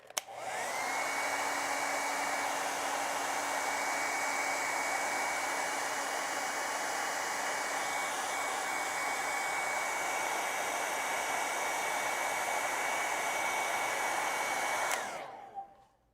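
A hair dryer blasts steadily over wet acrylic paint on a pink dahlia flower painting, running loud and close as a constant whirring hiss for about fifteen seconds before clicking off.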